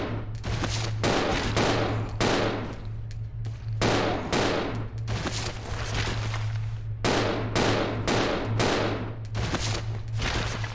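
Rapid gunfire in the video game Resident Evil Zero, with loud bursts of shots fired in quick clusters that are separated by brief pauses, over a steady low game hum and high electronic tones.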